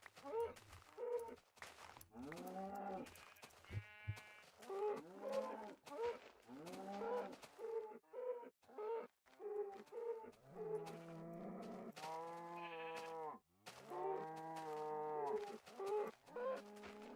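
Cattle mooing in Minecraft, a run of repeated low harmonic moos from several cows, loud and close, overlapping one another with brief gaps and a few higher bird-like calls mixed in.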